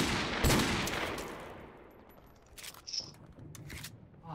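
Gunfire from the multiplayer shooter Call of Duty: Modern Warfare Remastered, a loud burst of shots at the start that fades, then a few sharper scattered reports later, with no talking.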